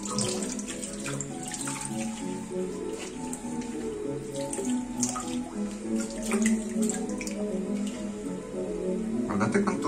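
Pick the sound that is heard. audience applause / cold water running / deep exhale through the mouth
cold water running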